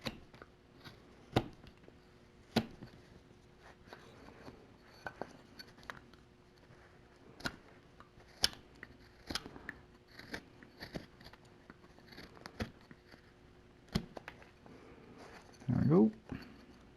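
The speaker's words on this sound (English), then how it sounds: "start coming in and cutting across the grain" A knife carving a wooden spoon across the grain, making a series of sharp, brief scraping cuts spaced irregularly at close range, with a louder rasping stroke near the end.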